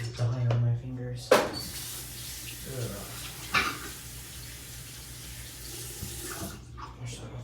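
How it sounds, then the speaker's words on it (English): Tap water running into a sink while dye is washed off fingers, a steady hiss broken by a knock and splashes, with someone speaking briefly at the start. "Wash that off the sink."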